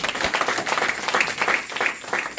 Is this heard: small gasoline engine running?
no